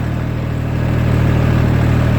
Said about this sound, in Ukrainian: Вон там вдалині, ну вам, мабуть, ще не видно, працює трактор.